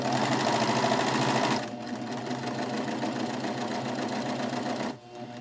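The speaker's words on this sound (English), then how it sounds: "This is set for just a regular 4-thread overlock, just the standard overlock stitch, and you're just going to stitch right next to the edge" A 4-thread overlock serger stitching close along flannel fabric edges, a steady fast mechanical whir that drops to a slightly lower, slower pace partway through and briefly dips near the end, close and alone.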